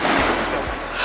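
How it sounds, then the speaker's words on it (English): Firework rockets bursting over a city at night, a loud, dense crackling roar that fills the whole second with sharp overlapping booms close by. "they're rockets that people shoot off"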